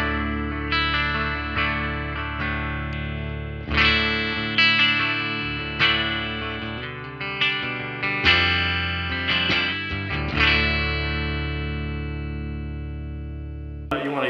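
Electric guitar through a Xotic Super Sweet Booster pedal with a boosted, slightly gritty tone, strummed chords and single notes ringing out loud and close, each attack fading into sustain.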